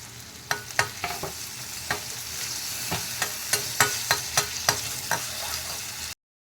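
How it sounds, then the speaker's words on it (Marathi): Onion and tomato frying in a pan with a steady sizzling hiss, broken by about a dozen sharp scrapes and clicks of a spatula stirring at an uneven pace. No voices. "कांदा आणि टमॅटो भाजत आला आहे"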